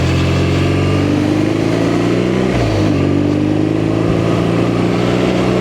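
2021 BMW R nineT Scrambler motorcycle with a dry clutch, ridden on a commute, its engine droning loud and close with a rising pitch, a brief dip around a gear change, then climbing again under wind noise.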